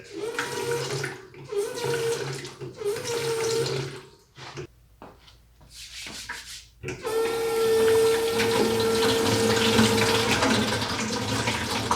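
Water runs steadily from a garden hose sink faucet, a constant rushing hiss that starts, pauses briefly, then flows again louder and continuous.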